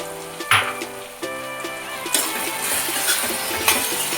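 Cut mushrooms frying in a pan for a home-style mushroom pulao give a moderate, steady sizzle with a few sharper clinks and stirring bursts over a sustained background tone, with no voices.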